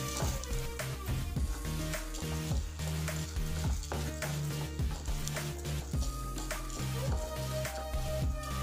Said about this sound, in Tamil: கடலைப்பருப்பு ஒரு 2 நிமிஷம் வறுத்த பிறகு அது கூட நம்ம இப்போ உளுத்தம்பருப்பு சேர்த்துக்கலாம்.